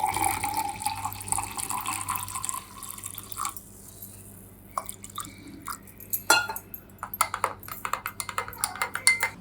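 Plain water poured into homemade amla juice in a kitchen, a splashing, trickling pour with drips and some clinks of a vessel, close and fairly loud, with no talking.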